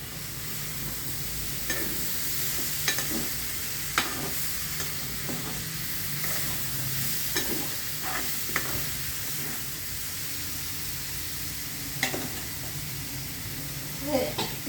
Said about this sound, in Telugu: ఇదిగోండి టమాటాలు వేస్తున్నా టమాటా పులుసులోకి బాగుంటుంది